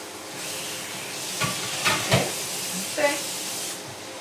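Pieces of pork skin fry in hot oil with a steady hiss and sizzle, broken by a few sharper crackles and pops.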